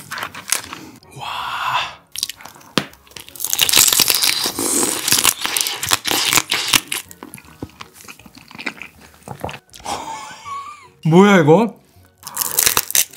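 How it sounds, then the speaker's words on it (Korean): Loud, crisp crunching and cracking of grilled blue crab legs as someone bites and chews, with excited voices talking over it. "이게 구우니까 다리가 엄청 바삭바삭한데요?"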